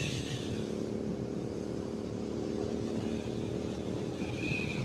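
A motorcycle cruises steadily at about 100 km/h on a cold, misty road, its engine drone and wind rush holding an even, loud, continuous level with no talk over it.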